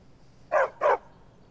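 A wolf in the Skyrim video game gives two quick, loud barks in a row, close and clear over a quiet background.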